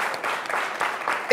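Brief audience applause at a French talk show, a soft patter of clapping hands from a small crowd, fairly faint and steady throughout.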